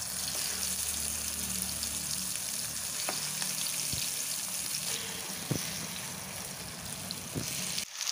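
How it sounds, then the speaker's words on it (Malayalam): Eggplant slices fry in oil in a pan over a medium flame, giving a steady, close sizzle that runs through the whole stretch with a few light clicks and scrapes from the pan. "ഇനി ഇതിലേക്ക് വഴുതനങ്ങ ഇട്ട് കൊടുക്കാം. മീഡിയം ഫ്ലെയിമിലിട്ട് വേണം ഇത് ഫ്രൈ ചെയ്തെടുക്കാൻ."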